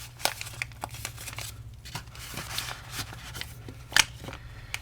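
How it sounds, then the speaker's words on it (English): A paper hot chocolate pouch being folded up to a marked line, heard up close as crisp crinkles, creases and short papery snaps at an uneven pace, with no talking. "I'm sort of just folding it up to that little line"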